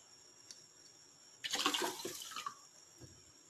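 Water poured from a bowl into a pot of sugar to make syrup for shahi tukda, a short splashing pour of about a second, close and clear, alone without talk.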